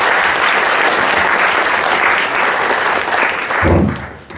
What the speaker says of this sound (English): let's give a big applause to Professor Tomizuka